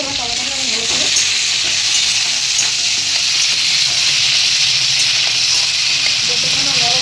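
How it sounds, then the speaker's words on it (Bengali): Tomatoes with a little salt fry in a hot pan, giving a steady, loud sizzle with a spoon scraping and stirring through it almost the whole time, close by and with no voices. "যতক্ষণ নরম হবে ততক্ষণ আমি ভালো করে টমেটোটাকে ভেজে নেব।"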